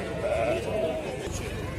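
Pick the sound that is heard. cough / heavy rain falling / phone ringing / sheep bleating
sheep bleating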